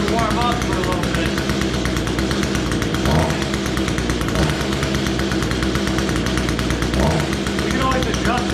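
An Echo small two-stroke engine with a new carburetor, cold-started and off the choke, runs continuously at a steady high buzzing rev while warming up, loud and close throughout.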